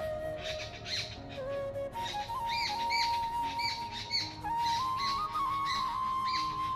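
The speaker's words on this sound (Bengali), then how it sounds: "কত কিচিমিচির শব্দ" Many birds chirp and call on an early morning walk outdoors, with bright overlapping tweets and squawks that continue throughout at moderate loudness, layered over a steady background.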